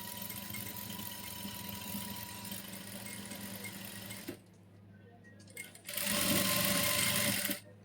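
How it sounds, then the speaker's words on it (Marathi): Sewing machine stitching lace, running in a steady close whirring hum, stopping briefly for a quiet pause, then starting again louder for a short burst. "आता खालच्या साईडला स्टिच करत जायचं आहे"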